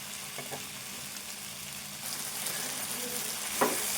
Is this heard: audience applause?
no